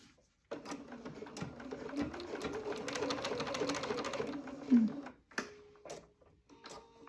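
A sewing machine stitching piping tape onto slippery jersey fabric, running steadily with a fast rhythmic whirring hum for about four seconds, then stopping, followed by a few faint handling clicks.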